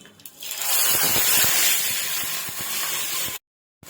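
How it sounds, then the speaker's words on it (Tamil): Onion, tomato, green chilli and ginger-garlic paste hiss and sizzle steadily in a hot pan for a jackfruit-seed gravy, with faint scraping knocks, then cut off abruptly near the end. "நல்லா பச்சை வாசனை போகிற வரைக்கும் வதக்கிக்கலாம்"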